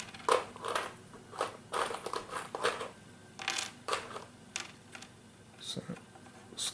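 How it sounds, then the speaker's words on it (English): Board game coins clinking and rattling as they are shuffled and counted by hand, a busy run of small metallic clicks and scrapes at close range. "we'll split that 5 into ones"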